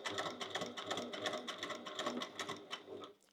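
A sewing machine stitching a crossbody bag, a fast rattling run of needle strokes held steady for about three seconds, close and fairly soft, stopping at the end.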